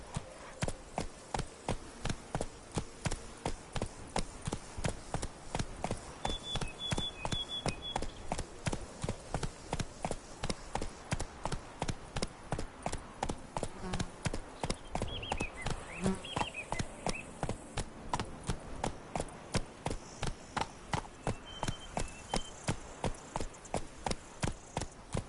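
Horse hooves gallop in a fast, even clip-clop rhythm throughout in the video game The Witcher, steady and moderately close, with faint game ambience and brief tones in the background.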